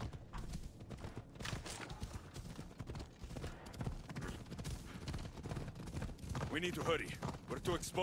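Horse hooves clip-clop at a steady pace as a horse is ridden in Assassin's Creed Odyssey, close and rhythmic, with game ambience and a brief voice near the end.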